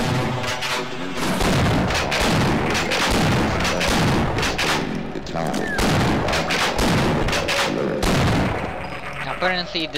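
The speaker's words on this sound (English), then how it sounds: "High energy detonation." High-energy detonations and heavy blasts in Half-Life, loud repeated booms and crackling bursts filling the whole stretch with barely a pause, with no speech over them.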